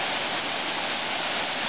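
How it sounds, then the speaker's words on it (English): The Manitou River, a stream feeding Lake Superior, rushes past a campsite in a state park, giving a steady, dense broadband roar of flowing water that stays constant and fairly loud throughout, with no voices. "This is Manitou River."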